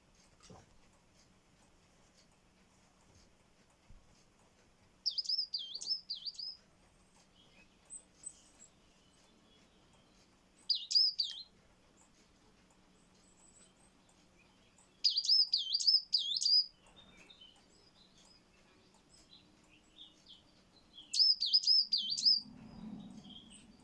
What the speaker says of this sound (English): That was the coal tit,